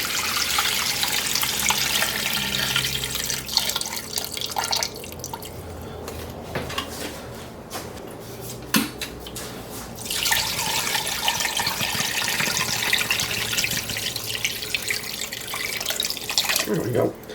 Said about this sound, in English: We are now going to cover the bones with water.